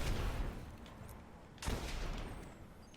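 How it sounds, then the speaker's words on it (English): Gunfire from the video game Destiny, shooting Dregs enemies on the Moon: two heavy, booming shots about a second apart, each followed by a rumbling tail. "Shooting these dregs because they're annoying."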